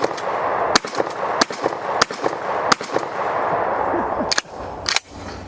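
A Remington 870 or Norinco 98 pump shotgun fires about nine sharp reports at a steady pace outdoors, with a rumbling echo trailing each blast and mechanical noise filling the gaps between them.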